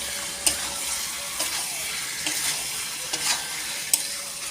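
Cubed tomatoes are stirred into chicken frying in a pan, giving a steady close sizzle with a few sharp scraping clacks of the spoon against the pan.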